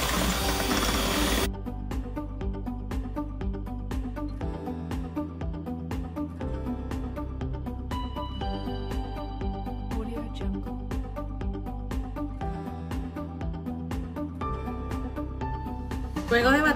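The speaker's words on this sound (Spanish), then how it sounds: "Mezclamos y subimos un poco la velocidad y vamos a mezclar alrededor de unos" An electric mixer beats orange cake batter with a steady, whirring motor drone that holds at a constant level throughout, close and continuous.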